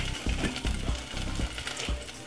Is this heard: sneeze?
no